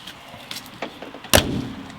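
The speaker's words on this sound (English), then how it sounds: "Door closes awesome. And that closes nice." A 1964 Volkswagen Beetle door slams shut once with a solid, close thud, preceded by a few faint clicks and handling sounds.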